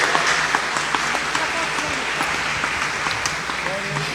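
Church congregation applauding during a Portuguese-language sermon, a steady dense wash of clapping from a large room that runs throughout at moderate volume.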